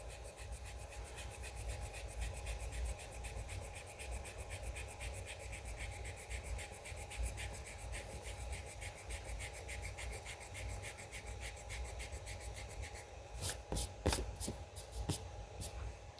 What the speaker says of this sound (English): We're gonna erase lightly.